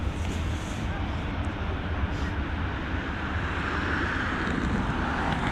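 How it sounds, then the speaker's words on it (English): A Helvetic Airways Embraer E195 jet at Dublin Airport, heard as a steady, loud broadband engine roar with wind buffeting the microphone, holding constant throughout without a clear rise or fade. "It's an Embraer E195 series aircraft, LX405, heading over to Zurich."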